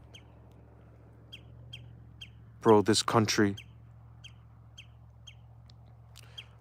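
A bird calls out on a scenic hillside with a short burst of loud, raspy squawking notes in the middle, while faint chirps tick in the background and someone speaks briefly.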